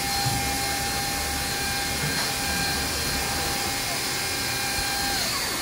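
Mazak VTC 200C vertical machining center running, a constant loud hum with a steady whine and broadband hiss, unbroken throughout with no talk.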